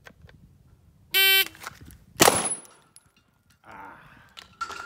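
A stock Glock 19 pistol fires at 6-inch steel plates from 7 yards, with a sharp buzzer tone followed by one loud, close shot and a fainter metallic ring and later clatter.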